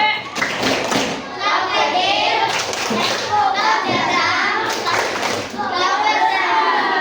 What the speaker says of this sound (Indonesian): kita kasih tepuk love buat kelompok 2. Tepuk love